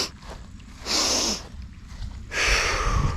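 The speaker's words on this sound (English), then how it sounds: "So you inhale twice without exhaling and then exhale" A physiological sigh, a double inhale followed by an exhale, breathed close to the microphone as two loud, airy rushes of breath separated by a short quiet gap, with no speech.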